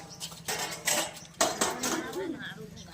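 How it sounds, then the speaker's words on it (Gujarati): Metal utensils clatter and scrape as they are scrubbed during cleaning of a village house, with intermittent clinks near by and voices murmuring in the background. "અહીંયા બધો ઘસે છે વાસણ"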